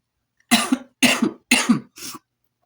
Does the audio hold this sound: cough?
yes